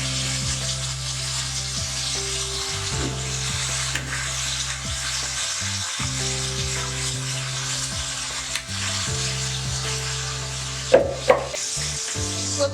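Tinda (apple gourd) frying with tomatoes in a pan, with a constant close sizzle over a low, steady hum and a few scraping stirs and clinks near the end.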